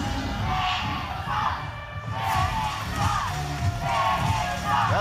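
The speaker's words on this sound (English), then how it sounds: "the crowd saying Shannon sucks" A wrestling crowd at an OVW event chants in rhythmic unison, the phrases rising and falling repeatedly, moderately distant with arena echo and occasional thuds.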